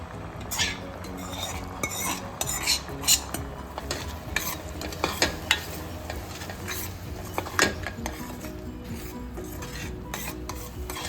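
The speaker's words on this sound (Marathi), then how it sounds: "आता आपण यात उकळलेली डाळ मिक्स करूया।" Boiled mung dal being stirred into melted jaggery in a pan for mung dal kheer, with a spoon scraping and clinking against the pot over a soft simmering sizzle, close and steady with no talk.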